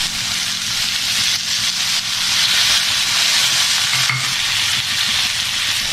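Carrots stir-fried in a hot pan for masala Maggi noodles, a loud steady sizzle and hiss with scraping stirs throughout, close to the pan, no talk.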